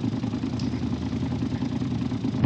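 Car engine running in the BeamNG video game, a 176-horsepower engine holding a steady mid-pitched drone at a near-constant rate, close and continuous with no talk over it.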